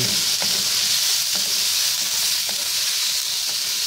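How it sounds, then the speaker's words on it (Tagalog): Pork, first boiled with pepper and a little salt, fries in a pan with a steady, loud sizzle that never lets up, broken by a few soft stirring knocks. "Medyo ipapry lang po natin ng konti"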